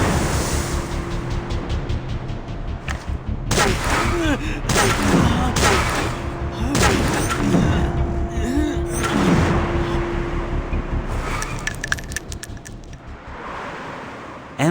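Gunfire rings out in the video game Dragon Raja, sharp repeated shots scattered among rushing game effects and music, loud and close, with voices speaking in places.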